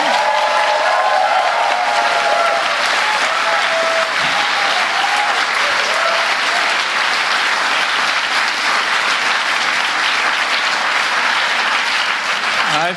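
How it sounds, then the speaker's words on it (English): Audience at a Bloomberg climate forum applauds President Joe Biden, a loud, sustained wash of many hands clapping for over ten seconds, with a few faint cheers and voices blended into the dense ovation. "Nice round of applause for Joe"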